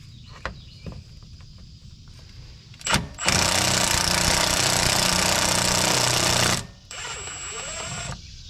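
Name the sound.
removing AC clutch center bolt on a Toyota Tacoma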